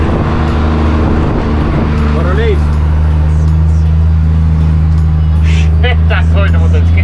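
Mercedes 1620 electronic truck engine roaring loudly, a steady, heavy low drone that holds throughout, with faint voices talking over it.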